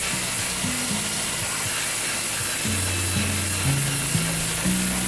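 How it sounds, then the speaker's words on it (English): A power grinder cuts into boat-hull fiberglass around a removed through-hull, whining steadily and close. Its pitch steps up and down as the tool is pressed harder and eased off. "Next, we start to grind on the outside."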